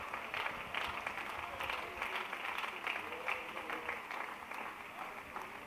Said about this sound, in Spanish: Dele fuerte ese aplauso al Señor en esta hora.